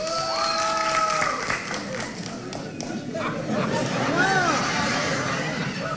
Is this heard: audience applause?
yes